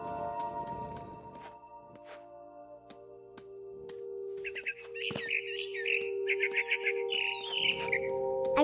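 Bird chirping in the video game What Remains of Edith Finch: bursts of bright, rapid warbling chirps over a steady hum, with soft knocks and ambient noise around them.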